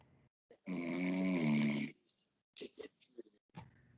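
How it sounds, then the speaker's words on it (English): A person snoring loudly and close by in one long, rumbling breath, followed by scattered short sounds and faint voices. "Who is that snoring?"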